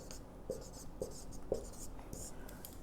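Chalk or marker writing on a classroom board during a geography lesson: a few crisp taps and short scratchy strokes at a steady pace, with quiet speech in the background.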